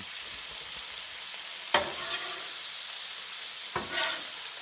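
Bacon sizzles steadily on a Blackstone griddle, a close, even crackling hiss broken by two sharp clicks, likely a utensil touching the hot surface.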